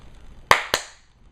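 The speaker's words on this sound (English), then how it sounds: "Then all he's going to do is clap twice" Two sharp hand claps, a fraction of a second apart, ring out crisply in a quiet room to command a small MIP self-balancing robot, each with a short decaying echo.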